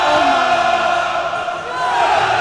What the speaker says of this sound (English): It's the cheering section.